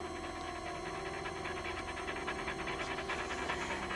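A half-bodied zombie dog in a 1985 horror film pants and whimpers in a rhythmic, breathy pulse over a low steady hum, continuing evenly and fairly faint.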